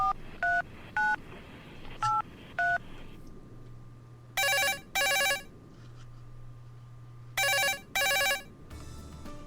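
A telephone calling a premium-rate helpline, starting with several short evenly spaced dialing beeps, then bright ringing in two pairs of rapid bursts separated by pauses, close and loud.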